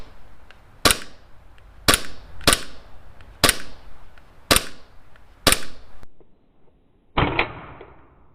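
Armorer Works VX0111 gas blowback BB pistol fires six sharp, loud snapping shots at uneven intervals, then a softer, hissier final discharge as the gas runs low.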